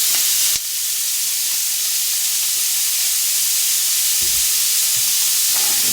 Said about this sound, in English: we're going to throw in a handful of diced up onion